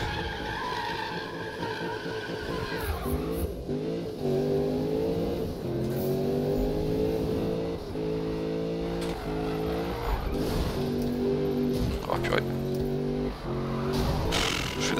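A car drifts in the Need for Speed racing game, its engine revving in shifting harmonic sweeps while tires squeal and skid almost continuously, loud and close throughout.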